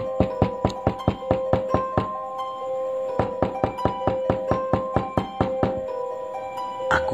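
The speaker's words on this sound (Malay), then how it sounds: "Kedengaran pintu bilik diketuk." Someone knocks on a bedroom door in quick bursts of sharp raps, two long runs separated by a short pause. A faint ringing tone hangs beneath the knocks.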